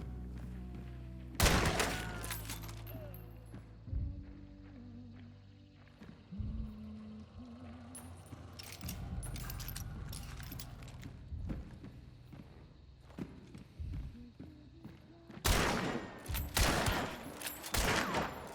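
Winfield rifle shots in the video game Hunt: Showdown crack out repeatedly over a busy background of footsteps and game ambience, with a heavy cluster of loud shots near the start and another dense volley toward the end.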